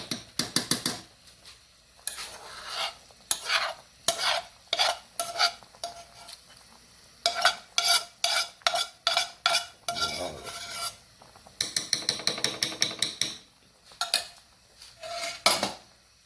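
Red beans being stirred with tomato paste and chili paste for a Filipino-style dish, a spoon scraping and clinking against the pot in irregular bursts of stirring, with quiet pauses between strokes and no voices.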